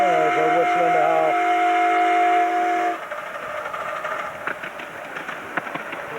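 A 7¼ inch gauge miniature steam locomotive sounds its steam whistle in one loud, sustained multi-tone blast lasting about three seconds, followed by quieter outdoor clatter and background noise.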